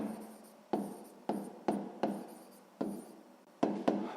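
A hand writes a maths solution on paper, sounding as a series of close, quiet taps and scratches, each pen stroke starting sharply and trailing off, with no talking.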